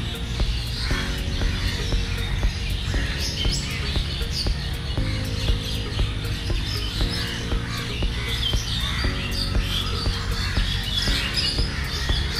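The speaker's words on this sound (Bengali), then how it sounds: "বৃষ্টির ভিতরে পাখিদের খুব কলতানের আওয়াজ।" Birds in an open park with many trees squawk and chirp repeatedly through a steady patter of rain, with the calls recurring at short intervals throughout.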